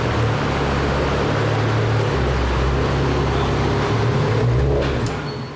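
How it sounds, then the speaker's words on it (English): An Infiniti Q60 car engine rumbles steadily and close as the car is driven onto a dyno, a continuous low drone with faint mechanical noise and no speech. "they're getting the Q60 into the dyno"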